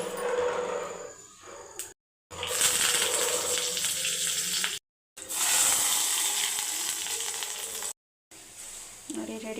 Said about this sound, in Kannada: ಒಗ್ಗರಣೆ ಹಾಕ್ತಾಯಿದ್ದೀನಿ. ಸ್ವಲ್ಪ ಎಣ್ಣೆ,